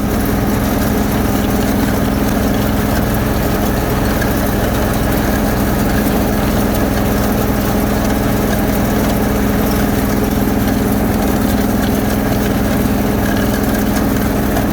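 An old tractor in need of work runs its engine at a steady idle, a loud, continuous low drone with a fine rattling pulse that holds unchanged throughout.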